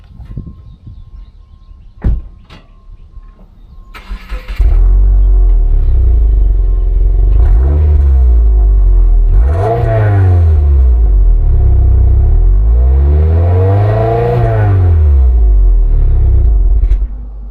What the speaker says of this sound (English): I'll just rev it up a little bit so you can hear it.